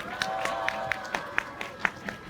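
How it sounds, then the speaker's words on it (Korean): Light applause at an outdoor Palestine solidarity rally, a handful of sparse claps in a steady rhythm with faint crowd murmur and a sustained tone underneath, fairly quiet and brief. "수고의 박수 부탁드립니다."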